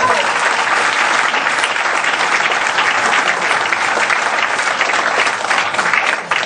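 Loud, dense audience applause at a live performance of a Sicilian comic stage play, sustained clapping from a full crowd that continues evenly without a break and dips slightly at the very end.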